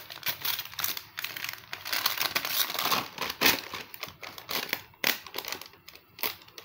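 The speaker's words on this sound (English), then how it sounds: "So now I will remove the pattern paper" Paper pattern is peeled away from the back of sewn fabric, giving close, uneven crinkling and rustling with short tearing pulls and brief pauses, loud and with no voices.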